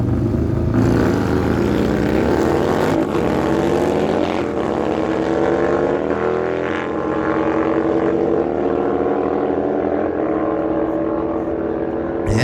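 Harley-Davidson motorcycles, including a Switchback and a Road Glide, racing at a dragway, a loud sustained engine roar with rising pitch as the bikes accelerate, heard from nearby and continuous throughout.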